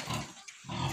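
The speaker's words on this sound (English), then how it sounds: "The mother pig." A mother pig on a home farm gives two short, low, rough grunts close by, separated by a brief quiet gap, with no talk over them.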